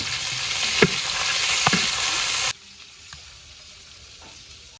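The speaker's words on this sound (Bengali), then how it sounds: "তেল গরম হয়ে গেছে রসুন কুচি দিয়ে দিলাম পেঁয়াজ কুচি কাঁচামরিচ" Chopped garlic, onion and green chilli hit hot oil in a pan with a loud, close sizzle and a couple of stirring scrapes, then the sound cuts off abruptly to near quiet.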